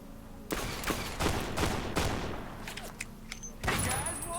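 Gunfire in Fallout: New Vegas, a run of sharp, loud shots spaced irregularly over a few seconds, some overlapping in quick bursts, with faint voices underneath.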